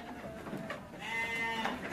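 Composite sheep on a farm, with a bleat rising near the middle and wavering over steady low background noise, heard at moderate distance.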